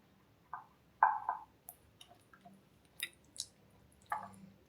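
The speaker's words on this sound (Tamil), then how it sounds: "நல்லா ஒரே மாதிரி கரைச்சிக்கோங்க" Dosa batter of mixed millets is stirred by hand in a bowl, giving soft wet squishes and slaps in irregular bursts; close and quiet, with no talking.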